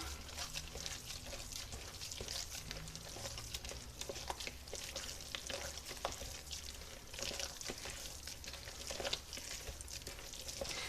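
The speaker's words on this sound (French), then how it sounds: "Je vais mélanger l'ensemble." Minced meat is worked together with two eggs and cheese in a bowl, giving faint wet squelching and stirring sounds in a continuous, uneven rhythm.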